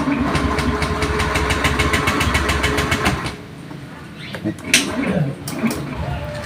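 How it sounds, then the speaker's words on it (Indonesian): A fuel-injected Honda Beat scooter's engine cranks on its electric starter with a steady whirring churn for about three seconds and fails to catch, then goes quiet apart from faint background noise and a voice. "Di starter pun tidak mau hidup."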